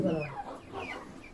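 Free-range village chickens cluck in a close, busy farmyard, with several overlapping calls under a fairly quiet background.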